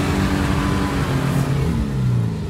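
Jeep engine revving hard while stuck, a loud, continuous mid-pitched roar with rising and falling pitch, close and unbroken.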